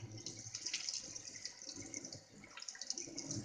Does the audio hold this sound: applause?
no